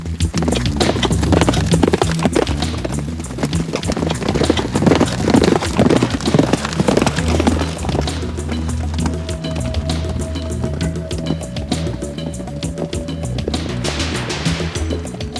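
Horses clop along at a Tibetan horse festival in Kham with loud, close, rapid hoofbeats, later joined by a steady droning tone.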